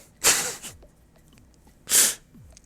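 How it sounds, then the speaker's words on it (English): Two loud sneezes a little over a second apart, each a sharp burst of breath, heard close up with nothing else in between. "I need to sneeze."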